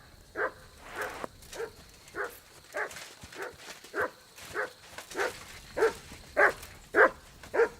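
Mutt, the dog in Kingdom Come: Deliverance 2, gives a steady run of roughly a dozen close barks and whiny yelps in an even rhythm, some louder than others.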